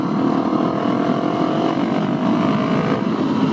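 Loud, close, steady rumble of a Husqvarna 701SM single-cylinder motorcycle fitted with a Leo Vince Nero aftermarket exhaust, a continuous throaty engine note with no talking.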